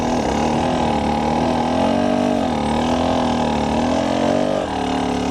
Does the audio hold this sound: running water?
no